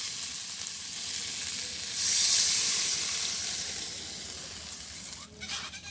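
Water hits a spice mix that has been frying in a pan for a village fish curry, a loud steady sizzle that surges sharply and then settles into a bubbling hiss, with no talking.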